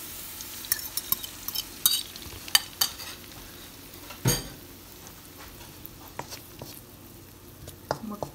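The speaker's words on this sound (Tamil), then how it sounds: "இப்படி இருக்கேக்கில் நீங்கள் அடித்து வச்ச முட்டையை ஊற்றுங்க." Beaten egg hits golden fried onions in a pan for roti tuna filling, a soft sizzle with scattered clinks of a utensil stirring, fairly close and quiet.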